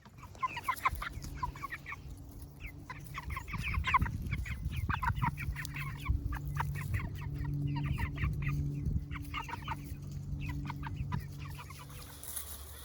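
Chickens cluck repeatedly in a busy, overlapping chorus on a homestead, with short rhythmic calls over a low steady background hum.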